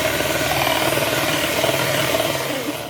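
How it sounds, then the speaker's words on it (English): Electric hand mixer whisking egg yolk, oil and vanilla extract for a birthday cake batter, a steady close motor whir with a buzzing hum that holds evenly for about three seconds, fading slightly at the end. "So I just decided to use the hand mixer to whisk that"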